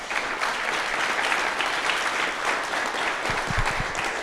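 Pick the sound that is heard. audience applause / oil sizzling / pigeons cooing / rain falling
audience applause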